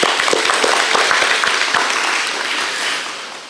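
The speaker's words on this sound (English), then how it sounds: "A round of applause for them, please." Audience applause at a school awards ceremony, a dense wash of clapping from many hands with a few sharper individual claps up front, steady at first and then thinning slightly toward the end.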